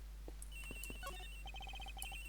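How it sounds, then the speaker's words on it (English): Telephone ringing in the Ace Attorney Investigations video game, a repeating electronic ringtone pattern of short bright tones over a steady low hum, fairly faint and alone with no talk. "The ringing is coming from somewhere around here."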